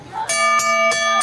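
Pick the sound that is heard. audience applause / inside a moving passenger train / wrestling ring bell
wrestling ring bell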